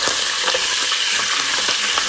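Fatback frying in bacon grease crackles loudly and continuously up close, a dense steady sizzle with small pops throughout and no talking.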